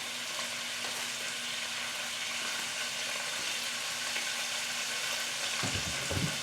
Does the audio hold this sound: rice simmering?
yes